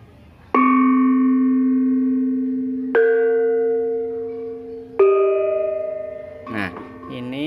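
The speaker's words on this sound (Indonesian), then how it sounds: "Nah, ini cara membunyikan instrumen berpencu atau pencon. Instrumennya adalah bonang barung" Bonang barung, a Javanese gamelan gong-chime, struck on its raised boss with a padded stick: three clear ringing strikes at different pitches, each decaying slowly, then a quicker cluster of softer hits, close and alone.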